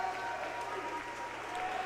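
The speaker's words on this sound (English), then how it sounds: "getting a big cheer from his buddies" Crowd at a high school conference swimming meet cheering and applauding for a swimmer finishing third, a steady roar of clapping and shouts throughout, with some chatter mixed in.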